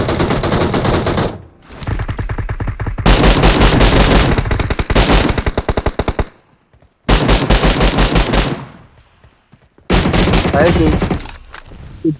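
Bursts of rapid automatic gunfire in PUBG come close and loud, several long sprays separated by short silences, with occasional voices among the shots.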